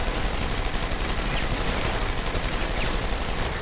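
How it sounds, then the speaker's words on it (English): Gunfire in Deus Ex: Human Revolution: rapid, sustained automatic fire, loud and close, running without pause. "Guy, can you stop shooting? Thank you. Oh, and you just started again."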